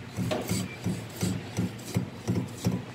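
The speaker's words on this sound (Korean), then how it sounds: "스테빌라이저 바예요. 제가 이거 옮겨 볼게요." A Mercedes stabilizer bar link with play in it is worked back and forth by hand, giving a steady series of about eight rhythmic, raspy creaks and clunks, close and fairly loud, with no talking.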